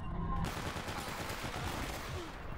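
Rapid bursts of gunfire from the S.T.A.L.K.E.R shooter game crackle continuously at close range and fairly loud, forming a dense, sustained barrage for the full length of the clip, with no speech.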